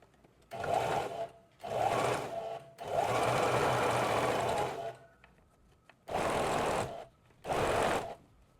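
A sewing machine stitches bias binding onto a blouse in five separate bursts of steady whirring, some short and one longer run, with brief quiet pauses between them.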